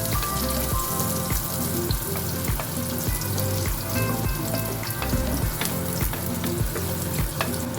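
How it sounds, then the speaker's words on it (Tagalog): White onion fries in melted butter for a Filipino crab sauce, a loud, dense, continuous crackling sizzle close by with faint stirring clatter, no voices. "maglalagay na tayo mga suki ng sibuyas na puti"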